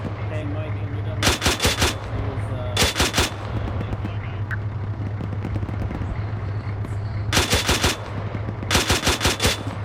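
Grenade machine gun fire in a combat video game, in four loud rapid bursts of evenly spaced thumping shots with gaps between, over a low steady hum.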